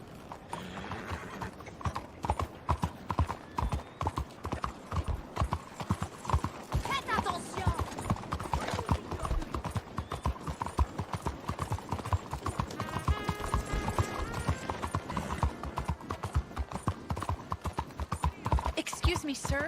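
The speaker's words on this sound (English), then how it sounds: "I'm getting on my horse." Continuous clip-clop of horse hooves at a brisk, steady gait in Red Dead Redemption 2, close and prominent, with an occasional whinny and some talking in the background.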